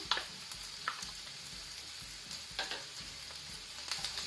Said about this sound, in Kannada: ಇದನ್ನು ಗೋಲ್ಡನ್ ಬ್ರೌನ್ ಆಗೋ ತನಕ ಫ್ರೈ ಮಾಡಬೇಕು